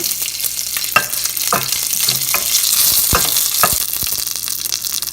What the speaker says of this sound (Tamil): கடுகு பொரிஞ்சு வரும்போது கருவேப்பிலையை போட்டுக்கோங்க.